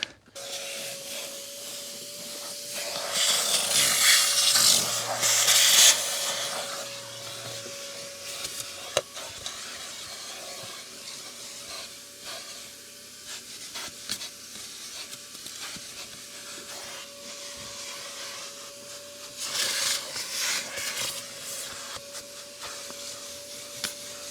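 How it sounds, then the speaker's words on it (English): A vacuum cleaner drones steadily for the whole stretch, with louder surges of suction and rubbing as it moves across car interior surfaces during detailing. "Let's get this vacuum in now."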